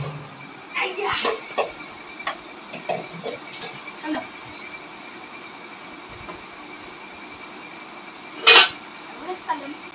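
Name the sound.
child carrying washed dishes to the kitchen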